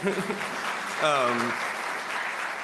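Audience applause for a musician at an emerging artists awards gathering, a steady wash of clapping across the whole stretch, with a brief voice rising over it midway.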